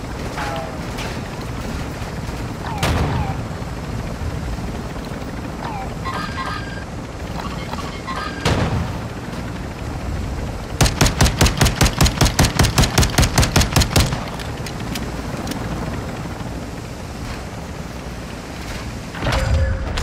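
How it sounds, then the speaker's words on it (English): Battle royale video game gunfire: a few scattered single shots, then a fast evenly spaced burst of about fifteen rounds in the middle, loud over a steady background rumble. "Hit them, they're shooting at us."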